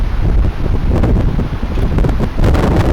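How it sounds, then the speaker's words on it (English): Strong gusts from Storm Katie batter an outdoor microphone, producing a loud, continuous low roar and rumble with surging buffets and no clear voice. "I don't know if you can hear me or not with the wind"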